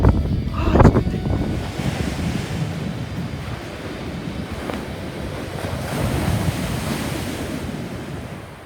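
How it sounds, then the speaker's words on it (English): Wind buffets steadily with a roar of surf rolling in, a strong gust thumping near the start. "It's windy."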